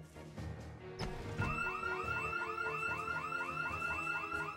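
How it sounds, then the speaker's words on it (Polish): A house alarm blaring in a zombie-world game, a repeating electronic warble that starts after a short thump and keeps cycling in fast, rhythmic sweeps, loud and alone. "jeden z nich miał alarm, który się odpalił"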